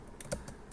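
Keys clatter on a computer keyboard in a Linux terminal setting, a few separate faint taps spread unevenly across the moment with no voice over them.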